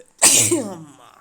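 One loud, sudden human sneeze, close and sharp, with a short breathy tail and a brief spoken word just before it.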